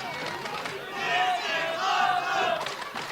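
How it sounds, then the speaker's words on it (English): A wrestling crowd roars and cheers in a steady swell during a match between Damian Drake and Funny Bone, with shouting voices rising and falling together over about three seconds. "The crowd coming alive."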